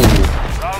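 An Intervention sniper rifle fires in a video game, one loud booming shot with a rolling tail that fades over under a second.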